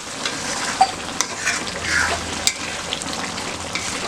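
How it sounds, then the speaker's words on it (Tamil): Goat liver fry is stirred in a hot pan, with a constant sizzle under scraping spoon strokes and a few sharp clinks of metal against the pan. "ஒரு கிளறி விட்டுறலாம்"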